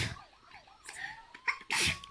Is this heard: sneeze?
yes